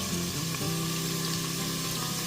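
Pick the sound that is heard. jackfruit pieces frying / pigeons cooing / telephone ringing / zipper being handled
jackfruit pieces frying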